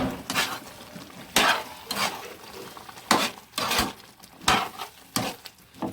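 Stuffed eggplant curry (gutti vankaya) is stirred in a pan, giving a string of sharp spoon scrapes and clatters against metal over a faint frying sizzle, close-up and without speech.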